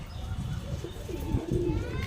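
A pair of pigeons for sale, one with a green leg tag, gives a soft low coo close by over faint background murmur.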